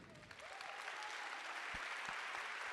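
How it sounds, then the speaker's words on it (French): An audience at a French public-speaking event applauds, a dense, continuous clapping from many hands that holds at an even level, heard from a moderate distance. "Un maximum d'applaudissements."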